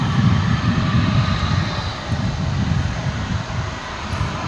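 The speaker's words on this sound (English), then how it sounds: "It's American Flight 399 coming in from Anchorage aboard an A321neo" An American Airlines A321neo jet arriving at DFW airport roars steadily and loudly with a deep rumble and a broad engine hiss that holds throughout.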